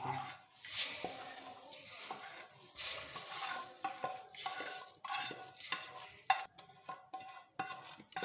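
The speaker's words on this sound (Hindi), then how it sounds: "इसे हम अच्छी तरह पकाते रहेंगे और चम्मच भी हिलाते रहेंगे।" A spoon stirs a boli mixture with semolina in a cooking pot, scraping and clinking against the metal in irregular bursts, close and moderately loud, with no voices.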